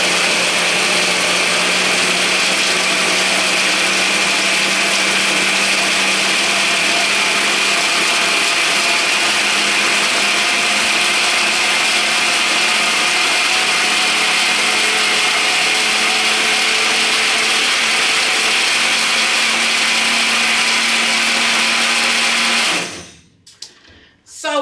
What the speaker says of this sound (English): I'm getting ready to cut this blender on and get it going.